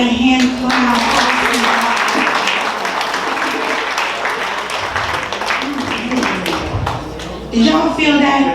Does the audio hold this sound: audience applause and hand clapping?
yes